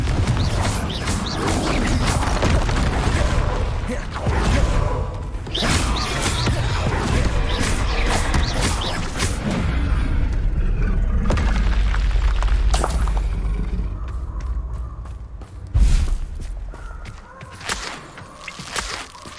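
A Confringo fire spell explodes in Hogwarts Legacy, a loud, sustained boom with crashing and rumbling debris that holds for many seconds, then a sharp burst near the end before things quiet down. No speech.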